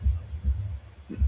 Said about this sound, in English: There's a heartbeat, beating so violently that it has to hurt.